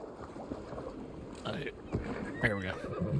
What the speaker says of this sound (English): Where my horse is going.